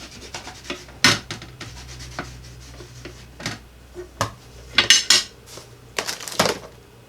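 A craft sign is scrubbed in short, uneven bursts of close rubbing and scraping, with a few sharp clicks and knocks between strokes and no speech.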